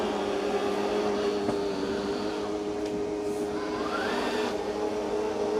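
A Eureka J15 Pro Ultra robot vacuum runs in mop-only mode with suction off, giving a steady, even mechanical hum with faint whirring, close and continuous, with no talk.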